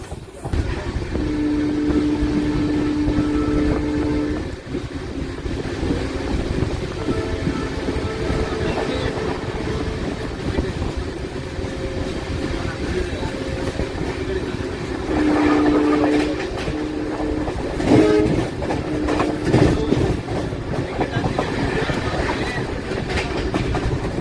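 A train on the Rameswaram to Tambaram route rumbles steadily with rhythmic wheel clatter, and its horn sounds in a few drawn-out blasts, heard loud and close from on board.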